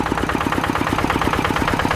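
A motorcycle fitted with a CJDW aftermarket exhaust idles steadily, a loud, even stream of rapid low exhaust pulses heard alone.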